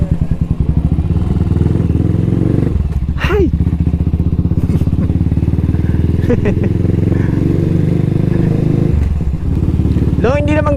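A Cafe 400 motorcycle rides along the road with a steady, loud, close engine drone and rapid rhythmic pulsing, several brief rising revs over the top, and a person briefly calls out a greeting.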